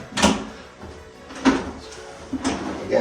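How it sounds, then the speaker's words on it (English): A wooden drawer in a laundry pedestal with step stools and storage is pushed shut three times, each a short knocking thud with a light rattle, close and fairly loud with quiet between. "when I push the drawer, it doesn't quite pop out like I want it to"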